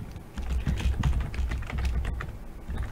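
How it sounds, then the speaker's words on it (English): Rapid, dense clatter of keys on a computer keyboard, continuous and close for the whole stretch, with no talk over it. "Furiously typing"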